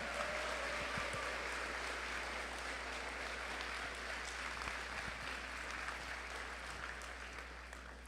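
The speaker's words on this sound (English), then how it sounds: "let's give a round of applause to the competitors here today" Audience at the opening ceremony of a 2019 state robotics championship applauds the competitors, a dense, even wash of clapping from a large hall crowd, sustained and fairly distant, fading slightly at the end.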